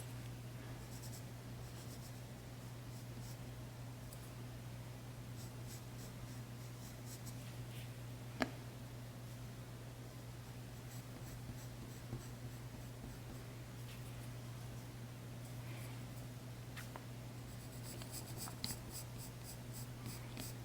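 A pencil sketches soft, light lines on paper for an eye drawing, giving quiet scratchy strokes over a steady low background hum, with an occasional faint tap.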